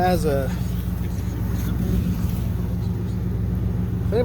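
A 2009 Ford F350 pickup's 5.4 V8 with replaced exhaust gives a deep, steady engine rumble and throaty exhaust note throughout, close by, with a voice speaking briefly at the start and end.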